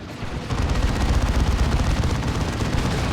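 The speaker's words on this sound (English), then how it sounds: "There's the barrage." An artillery barrage in the video game Warhammer 40,000: Dawn of War 2 sets off a dense, rapid run of explosive booms and gunfire that continues for several seconds without talking.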